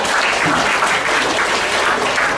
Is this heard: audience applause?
yes